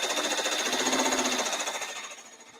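A 6-needle embroidery machine stitches in a fast, even mechanical rhythm of rapid needle strokes, steady and close, then easing slightly in level toward the end, with no talk.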